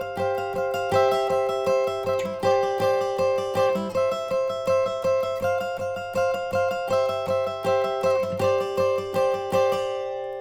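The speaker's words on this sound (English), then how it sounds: "so altogether that section on the lead guitar sounds like this." Lead guitar part of a song, with a steady down-up strummed and picked pattern repeating in even pulses for about ten seconds over ringing chord tones.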